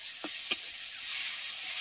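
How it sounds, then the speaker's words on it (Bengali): Ginger paste frying in hot oil with turmeric powder in a home kitchen, giving a steady, close hiss of sizzling with a couple of brief stirring clicks near the start. "এবার হালকা করে আদা বাটাটাকে একটু তেলে ভেজে নেব।"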